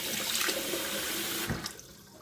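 Kitchen tap water running steadily into a sink to soak tough chicken, a close continuous splashing gush that tapers slightly toward the end.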